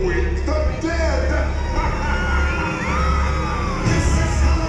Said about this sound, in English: Just scream like you're trying to wake the dead.